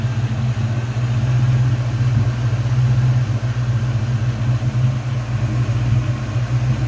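A supercharged 2003 Ford Mustang Cobra convertible with polished throttle body and supercharger idles steadily close by, a deep, even engine rumble with slight pulsing and no talk.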